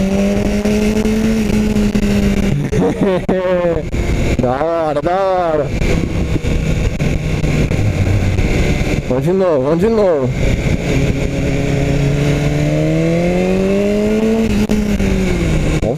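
A BMW S1000 R motorcycle engine revs and accelerates on a test ride through several rising and falling gear sweeps, loud and close, over steady wind roar. A rider talks briefly.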